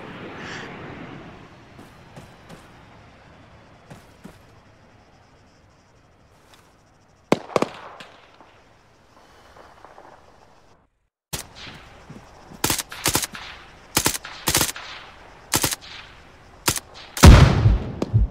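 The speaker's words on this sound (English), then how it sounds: "No, that's grenades." Grenade explosions and rifle fire in the military shooter ArmA 3, sharp bursts and thuds scattered irregularly, sparse at first, then a denser run of loud blasts near the end.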